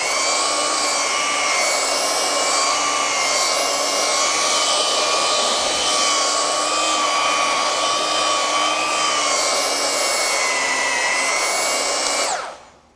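A Craftsman V20 brushless cordless belt sander (CMCW22) runs continuously with a high whining motor tone and belt hiss, steady and close, before spinning down abruptly at the end.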